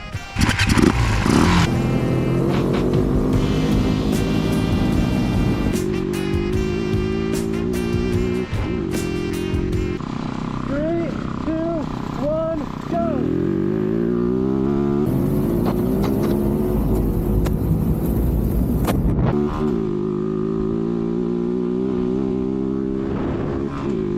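A homemade 50 HP engine in a scratch-built F150 Power Wheels ride-on roars close by on a test drive, revving hard and rising and falling in pitch through several accelerations.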